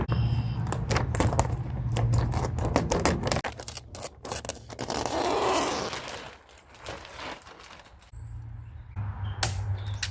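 Material cut off a roll along a crease while building a budget DIY raised garden bed: scattered sharp snips and crinkly handling noises up close, with a stretch of rustling in the middle, no talking.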